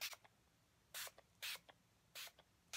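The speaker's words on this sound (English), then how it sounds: "This is a facial spray, so I guess you can spray it in your hair." A facial spray bottle mists onto hair in short hissing bursts, three main sprays with small pumping clicks between them, close and quiet.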